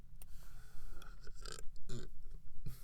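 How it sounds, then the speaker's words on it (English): A single low, gurgling burp from a reader partway through narrating a story, close and fairly quiet, with no other sounds apart from faint room tone. "it sucks when you burp in the middle of a"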